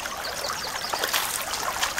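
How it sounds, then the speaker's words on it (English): Water flows and trickles along a river, a close, steady babbling stream with small splashes and no voices. "Look at the water."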